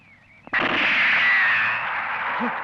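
A single sharp gun or cannon blast fired as a salute, a loud sudden bang followed by a long, slowly fading roar and rumble, with a brief faint voice afterward.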